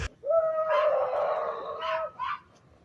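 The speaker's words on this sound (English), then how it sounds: "it is actually just one dog being yappy" One yappy dog lets out a long, drawn-out howl, then two shorter yelps. The sound is moderately loud with no speech.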